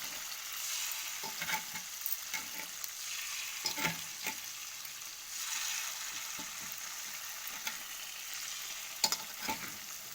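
Mysore bonda batter made with maida fries in oil over a low flame, giving a steady bubbling hiss broken by occasional stirring scrapes.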